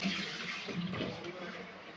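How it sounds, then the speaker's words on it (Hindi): Tap water runs steadily into a sink while a face is washed, a continuous hissing flow heard close with faint background noise and no clear speech. "मुँह धो लिया जाए"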